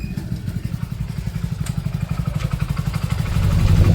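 A motorcycle engine chugs steadily at close range with a rapid pulsing beat, growing louder and heavier toward the end as the bike draws near a roadside stand.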